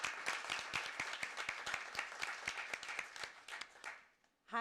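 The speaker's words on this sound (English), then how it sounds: "So everyone, please, round of applause." Audience applause at a live banking industry panel event in Dubai, a dense steady patter of many hands clapping for several seconds before tapering off near the end.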